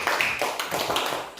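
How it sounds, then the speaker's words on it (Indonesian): Applause in a classroom, a short burst of hand clapping from a group of students, fairly close and steady for a moment with no speech over it. "tepuk tangan buat si Ian."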